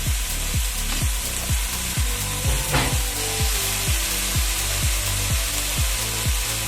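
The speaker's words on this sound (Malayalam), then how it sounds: "അതിലേക്ക് നമുക്ക് കഴുകി വൃത്തിയാക്കി വെച്ചിരിക്കുന്ന കൂണ് കൂടി ഇട്ട് ഒന്ന് വഴറ്റി കൊടുക്കാം" Washed mushrooms and softened onions are sautéed in a pan for a Kerala-style mushroom dish: a steady close sizzle under regular, rhythmic scraping strokes of a spoon against the pan, with no talking.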